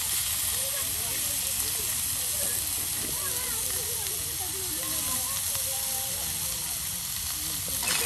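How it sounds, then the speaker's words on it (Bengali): Fish fry in hot oil in an outdoor Bengali village kitchen, a loud, continuous bubbling hiss with crackles, while a person talks over it. "বাকিটুক যে মাছ আছে সেই মাছগুলো এখন এই যে ভেজে নেওয়া হচ্ছে"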